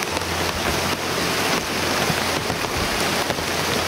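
Heavy rain pours on a mountain trail, a dense, loud, continuous hiss of drops striking surfaces with no letup.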